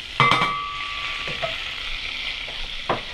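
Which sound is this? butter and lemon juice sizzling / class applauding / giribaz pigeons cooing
butter and lemon juice sizzling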